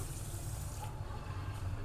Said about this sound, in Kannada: ಒಂದು ಕಪ್ ನೀರು ಸೇರಿಸ್ತಾ ಇದ್ದೀನಿ